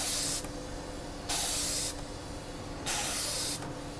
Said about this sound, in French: je commence à entendre l'air qui commence à passer maintenant